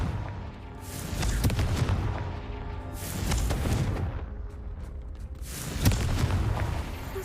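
Confringo fire spell cast in Hogwarts Legacy, three loud booming blasts spaced a couple of seconds apart, each a sharp crackling burst with a rumbling tail, over steady game ambience.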